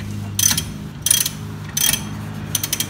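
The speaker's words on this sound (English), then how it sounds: "You reverse the ratchet. Make sure that 14 millimeter's on there. You start tightening it up until it's tight." A hand ratchet with a 14 mm socket tightens a rear brake caliper bolt on a 2011 Dodge Avenger, giving four short, loud bursts of metallic clicking close by over a low steady hum.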